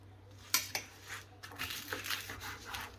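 A knife clicks and taps against a plate a few times, sharp little strikes followed by soft scraping as crisp katmer pastry is cut into four pieces.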